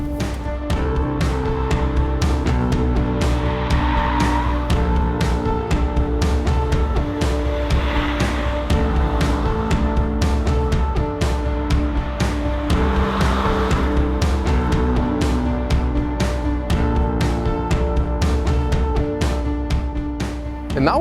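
Volkswagen T-series SUV on Continental tires during a handling test on a track, engine droning steadily and loudly with recurring tire squeal swells throughout, no talking.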